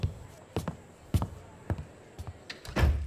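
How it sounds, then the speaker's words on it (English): A door swings shut indoors with a few dull knocks and thuds, ending in a heavier low rumble as it closes. "And please close the door as you leave."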